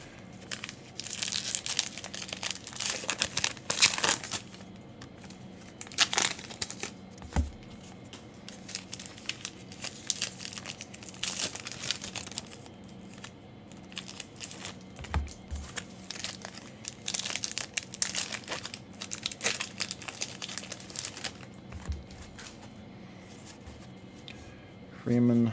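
Allen & Ginter trading card packs from a hobby box being torn open, with repeated crinkly foil-wrapper crumpling and ripping bursts, close and fairly loud, continuing in waves under occasional talk.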